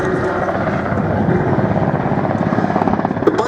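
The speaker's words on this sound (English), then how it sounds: "the RAF was operating the type as the Wessex HC2, much improved with twin-coupled Rolls-Royce Gnome engines" A Westland Wessex HC2 helicopter with twin-coupled Rolls-Royce Gnome engines at an air show, its loud steady turbine roar and rotor thump filling the air, the blade chop growing more distinct toward the end.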